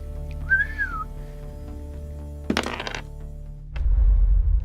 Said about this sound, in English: I'm gonna whistle for it again.